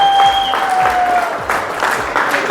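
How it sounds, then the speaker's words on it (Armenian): Loud close applause from a gathered crowd celebrating mothers and sisters, dense clapping throughout with a faint tone fading early on. "փչեք թող ծափեր տան, հենց ծափեր տվեցին"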